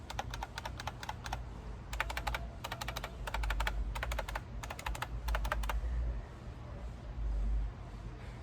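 Steady typing on a 32-year-old computer keyboard: clusters of sharp, nearby key clicks in uneven bursts with brief gaps, heard alone without speech.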